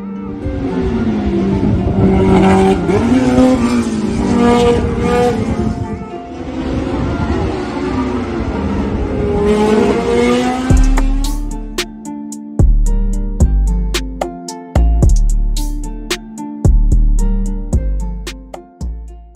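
Historic Formula 2 race cars braking before a chicane at Circuit Paul Ricard in France, first a loud roaring pass, then a string of sharp downshifting engine blips from several cars arriving in turn.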